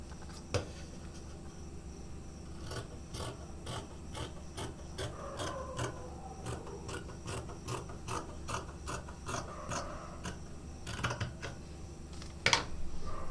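Fabric being cut for ruffle sleeves with a rapid series of sharp, evenly repeated snips from close by. A scraping, ratchet-like rasp runs steadily underneath and no one speaks.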